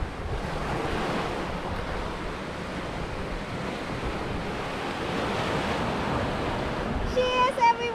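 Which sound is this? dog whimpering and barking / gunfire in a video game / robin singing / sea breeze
sea breeze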